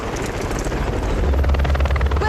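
A helicopter's rotor chop and engine roar from a TV advertisement fill the clip, loud and continuous with fast rhythmic blade thumps that grow slightly heavier, with no speech.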